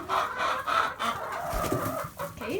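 Chickens cluck steadily on a farm, a busy run of close, overlapping hen calls with no talk over them.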